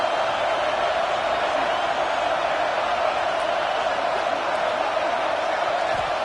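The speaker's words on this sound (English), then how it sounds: "Listen to the crowd energy here in the early going." Continuous roar of a large stadium crowd in the video game College Football 26, a steady dense wash of noise with no breaks.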